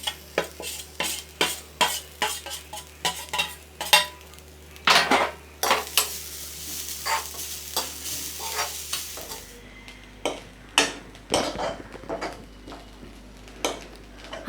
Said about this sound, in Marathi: आता त्याच कढईमध्ये ओलं खोबरं आपण भाजून घेऊया